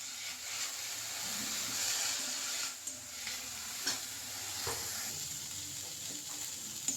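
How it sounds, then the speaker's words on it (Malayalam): Mint and coriander leaves sizzle and hiss in a hot pan while being stirred, with a continuous frying crackle and occasional scraping strokes, close and steady with no talking. "നന്നായിട്ട് ഒന്ന് വഴറ്റിയെടുക്കണം."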